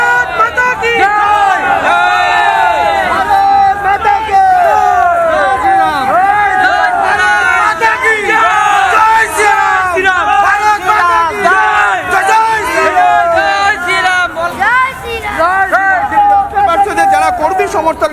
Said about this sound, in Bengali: তারা ক্রমাগত জয় শ্রীরাম স্লোগান এবং একই সঙ্গে ভারত মাতা কি যায় এই স্লোগান তারা ক্রমাগত যাচ্ছে